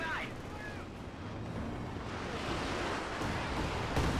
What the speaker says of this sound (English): Panzerwerfer barrage.